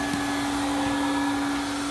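A Bissell PowerForce Helix vacuum cleaner runs with a steady, loud motor whine and airy rush as dust blows out of its hose, continuous and without talk.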